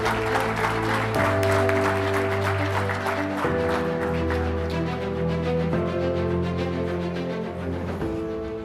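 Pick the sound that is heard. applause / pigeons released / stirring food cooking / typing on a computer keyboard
applause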